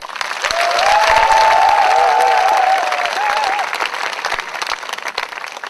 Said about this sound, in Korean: 여러분 다시 한번 힘찬 모든 분들께 감사 박수를 드리겠습니다